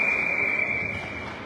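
A referee's whistle at an ice hockey game gives a steady, sustained shrill tone over crowd and rink noise, fading slightly toward the end.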